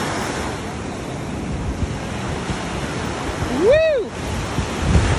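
Big ocean waves surge in a steady, loud roar against wind buffeting the microphone, while a voice briefly whoops near the end.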